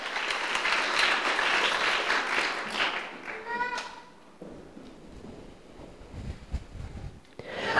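Applause at a Cub Scout pack's Blue and Gold ceremony, a crowd clapping loudly for about four seconds before it fades into quieter room noise and scattered movement.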